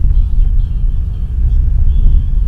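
A large Ford Fusion sedan with a 150-horsepower engine rolls over a badly potholed, degraded road, giving a steady, close low rumble of tyres and suspension with no voices.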